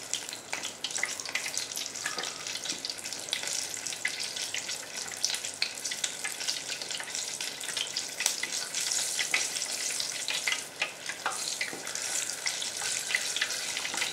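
Steady, crackling sizzle of stuffed chilli peppers shallow-frying in hot oil, continuous and close, with occasional sharper pops and spits.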